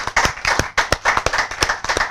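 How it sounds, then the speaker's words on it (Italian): Studio audience applause for a performer on an Italian TV show, a brisk run of close, sharp hand claps in an uneven rhythm lasting a couple of seconds with no talking. "Applauso a Cesare."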